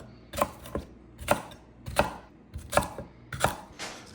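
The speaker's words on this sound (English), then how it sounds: "I just need to trim it and then roughly chop it." Knife chopping fresh rhubarb stalks on a cutting board, five or six sharp, evenly spaced chops close up and alone, with no talk.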